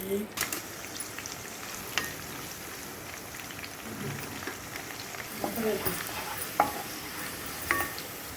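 Onions and green chillies sizzle and crackle steadily in hot oil for a meal maker biryani, with a spoon occasionally scraping and stirring the pan up close.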